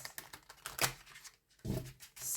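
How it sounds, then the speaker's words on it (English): A tarot deck being shuffled by hand, with rapid crisp riffling card clicks in irregular bursts close up, a brief pause, then more shuffling. "So I'm going to have a bit of a shuffle of this one."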